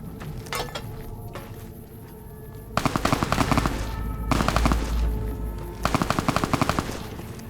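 Rapid automatic gunfire in the video game Fallout: New Vegas rattles out in three loud bursts separated by short pauses, with a low rumbling boom under the middle burst.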